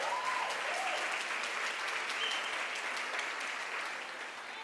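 A church congregation applauds during an evening service, a steady broad wash of clapping that holds for several seconds and tapers slightly at the end, with a few faint voices and whistles over it.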